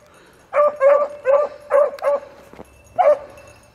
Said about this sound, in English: He barks when he smells rabbit.